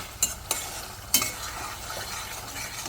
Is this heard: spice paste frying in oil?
yes